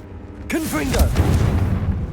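A Confringo fire spell blast from Hogwarts Legacy: a sudden booming burst that swells into a sustained rumble with crackling debris, while a voice calls out over its onset.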